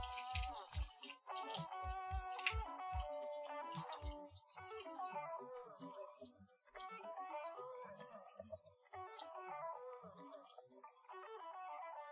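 Liquid drizzles slowly out of a container in a home kitchen while dinner is being made, producing a steady trickle with irregular dripping and splashing close by.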